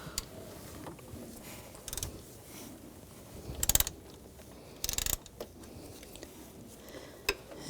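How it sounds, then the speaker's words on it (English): A ratchet with a 13mm socket works loose the bolts on the accessory drive belt tensioner of a 2000-2006 BMW X5 3.0L inline-six, faint metallic clicking and a few brief sharp clanks over quiet garage background. "You'll take the two bolts out. Holding the tensioner, use a 13mm socket."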